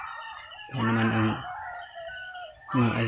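A rooster crows twice nearby, loud harmonic calls separated by a pause, with quieter clucking and bird sounds between.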